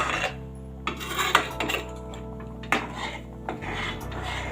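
A spoon stirs a thickening besan (gram flour) mixture in a pan over a medium flame, giving irregular metallic scrapes and clinks over a steady low hum, with no voices.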